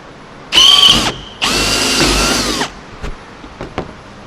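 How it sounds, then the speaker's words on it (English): A power drill bores a hole to mount a rear load cable guide, with two loud whining bursts close up, followed by a few faint clicks and knocks. "Drill your second hole."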